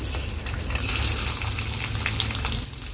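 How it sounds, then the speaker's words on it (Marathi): Steady, close sizzling and crackling of boiled potato frying in ghee in a wok, continuous throughout with soft bubbling textures. "कढईमध्ये इथे मी ना साजूक तूप टाकले आणि त्यामध्ये आता उकडलेला बटाटा टाकते"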